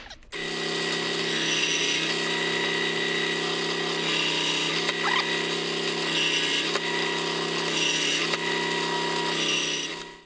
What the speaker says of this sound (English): I've got all the holes drilled